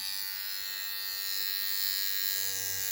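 An inexpensive electric shaver runs with a steady high buzzing hum, close and unbroken for the whole stretch, with a slight low rumble creeping in near the end and no talk.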